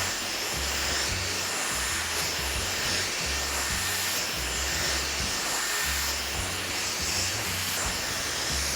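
A hair dryer blows hair into a bouncy style, a loud, steady airy roar with a low motor hum that fluctuates slightly as the airflow moves through the hair, and no talk.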